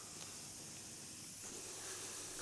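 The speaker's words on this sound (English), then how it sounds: "I'm just spraying that on the neck area." An airbrush sprays mixed flesh-tone paint onto the neck area of a Joker painting, giving a soft, continuous, even hiss of air and paint that runs throughout at low level.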